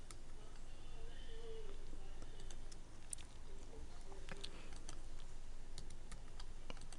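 Sparse, scattered key presses on a computer keyboard, faint clicks spaced irregularly over a steady background hiss, with no talking.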